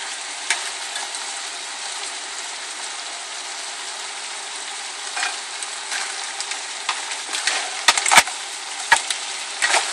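Paella frying in a wide pan and stirred, a dense continuous sizzle with scattered spoon scrapes and knocks that grow busier toward the end, no speech.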